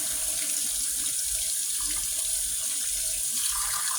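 Hot water running from a tap into a sink for a doll's bath time: a steady, close, continuous rushing splash with no breaks, loud and unvarying.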